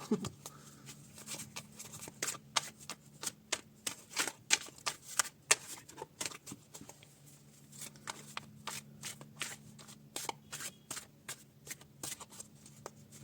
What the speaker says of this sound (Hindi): थोड़ा स्लो करती हूँ मैं कार्ड्स को शफल, ताकि आपकी एनर्जी इनसे कनेक्ट होए